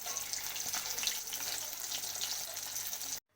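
Rohu fish pieces frying in hot oil give a steady, dense sizzle and crackle that runs unbroken close by for about three seconds and then cuts off abruptly.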